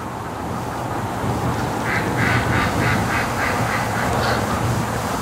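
Ducks quack in a rapid series of repeated calls at a lake on a windy day, over a steady rush of wind or water noise, moderately close and fairly loud.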